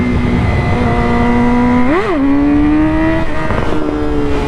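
A Yamaha R6 sportbike engine howls at steady high revs during a wheelie, the pitch dipping and jumping once as a gear is shifted, then holding loud and close alongside wind noise.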